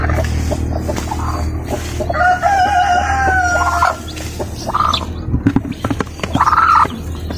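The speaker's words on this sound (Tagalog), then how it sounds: "napansin ko yung isang sisiw dito naglakad-lakad" Brood hen with ten newly hatched chicks in a Filipino backyard coop, heard as close, loud hen clucks and rising calls over a constant low hum, with a few sharper clicks and taps.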